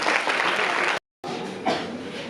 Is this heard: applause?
yes